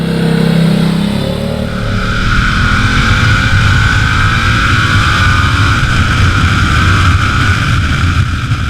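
A Ducati Diavel motorcycle engine drones steadily while riding on the road, loud and close, with a sustained rising tone over wind rush throughout.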